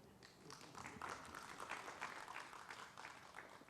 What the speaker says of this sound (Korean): 여러분 제가 뭐 박수를 쳐주셔서 감사드리는데